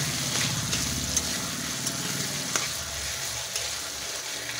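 Chicken sizzles in a pan with ginger-garlic, onion and cumin paste, a dense continuous frying hiss broken by occasional light stirring clicks.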